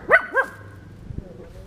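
A dog in Grand Theft Auto gives two quick, fairly close barks at a park, followed by quiet background ambience.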